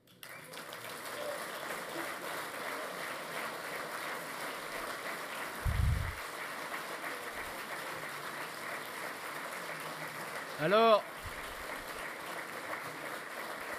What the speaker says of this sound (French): n'applaudissez pas trop parce que la suite est sévère